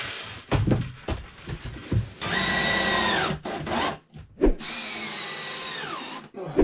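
A power drill driving screws into wood for kitchen cabinetry, two sustained whirring runs with pitch shifts as the screw seats, separated by clunks and handling noises, close by.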